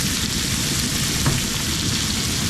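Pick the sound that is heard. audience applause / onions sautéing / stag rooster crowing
onions sautéing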